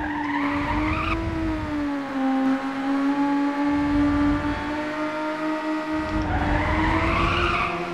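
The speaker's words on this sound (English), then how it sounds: "Had to pull off a quick drift there because I took it out too wide" A race car drifts in the Ridge Racer Type 4 video game, a sustained tire skid squeal over the steady engine drone, swelling and easing across several seconds with no talk.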